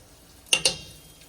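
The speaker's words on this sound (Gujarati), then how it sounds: "તેલ ગરમ થઈ ગયું છે એટલે એમાં આપણે કઢી પત્તા નાખશું અને પછી એમાં આ ચટણી નાખશું" Curry leaves and chutney dropped into hot oil give two quick sharp sizzling bursts in close succession, then fade to a faint crackle in a quiet kitchen.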